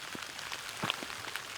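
Light rain falling on Ohio public land during a turkey hunt, a faint, steady patter of scattered drops with no voices.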